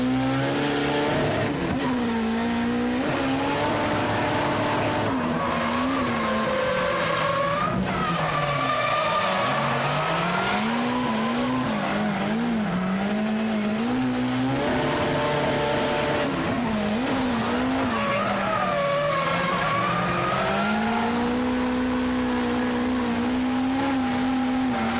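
Drift cars battle in a competition, engines revving up and down continuously while tires squeal in long wavering howls, loud and close throughout.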